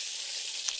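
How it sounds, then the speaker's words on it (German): An egg frying in a kitchen pan gives a steady, close bright sizzle and hiss throughout, with a small pop near the end and no voices. "das weiß-gelbe Etwas in der Pfanne, das außerordentlich seltsame Geräusche von sich gibt"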